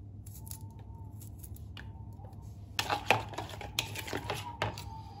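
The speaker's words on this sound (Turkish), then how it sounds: "Bu şekilde ince ince doğruyorum, küçük küçük." A knife taps out quick, irregular chops on a cutting board, finely chopping vegetables in a home kitchen, quiet and close, over a low steady background hum.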